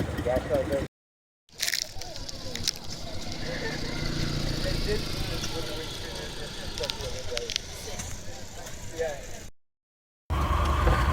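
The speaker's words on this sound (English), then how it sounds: "I'm going to be followed by a similarly aged Triumph Spitfire" A vintage Triumph Spitfire sports car runs at a vintage show in Aberaeron, its engine droning steadily at moderate distance for most of the stretch, broken by brief gaps at the start and end.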